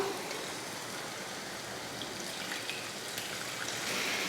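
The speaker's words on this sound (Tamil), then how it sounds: "இப்போ இதில் புளி தண்ணி சேர்த்துக்கலாம்" Tamarind water poured into a pan of masala frying in oil, a steady bright hiss and sizzle with a trickling wash running the whole time, close and even, no voices.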